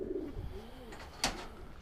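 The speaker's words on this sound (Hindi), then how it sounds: "तो ये सलमान भाई के शौक के कबूतर हैं।" Pet pigeons cooing softly nearby, a low rolling coo followed by a short sharp click or flutter, with no voices.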